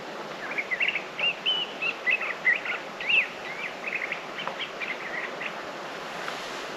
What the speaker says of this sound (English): Every territory has its own song for birds.